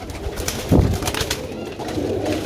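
Pigeons coo close by in a pigeon keeper's loft, a low throaty burst followed by softer repeated coos and a brief flutter of wings.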